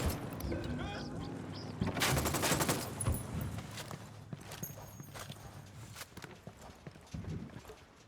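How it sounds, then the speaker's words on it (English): Ghost Recon Wildlands combat with a rapid volley of gunfire near the start, sharp cracking shots thinning into scattered pops and clatter, heard over busy in-game background noise. "Opening fire."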